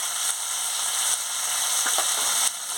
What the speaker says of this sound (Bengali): মশলাটাকে ভালো করে ভেজে নিচ্ছি